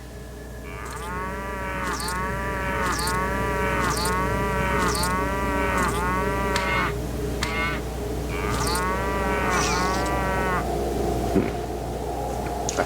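Cattle in the video game Fallout 2 moo in a steady series of drawn-out calls, repeating roughly every second over a constant low hum of game background sound.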